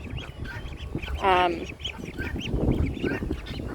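Pekin ducks on a farm quack and honk loudly, a close, raucous chorus of overlapping calls with one long harsh call standing out partway through.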